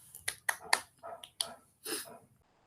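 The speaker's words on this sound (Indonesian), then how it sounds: "kita berikan tepuk tangan dulu nih untuk kelompok 2 nih yang telah bagus analisisnya" A few students in a classroom clap briefly, a handful of sharp separate claps in an irregular sequence that fades out, quiet and close with no talk over it.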